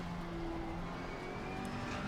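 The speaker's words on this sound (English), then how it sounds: "There's a car approaching." A race car in a racing video game at the Paul Ricard circuit drones steadily as it approaches and passes, a continuous engine tone with a faint rising pitch and no pause.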